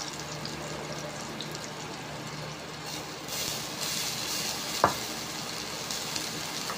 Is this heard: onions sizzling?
yes